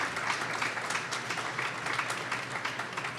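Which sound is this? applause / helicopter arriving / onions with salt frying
applause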